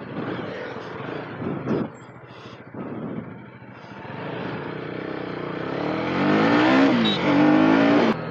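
A KTM Duke 250 motorcycle engine is heard on a ride, with a rough throbbing note that rises into a louder, steady revving drone as it accelerates, close and dominant throughout.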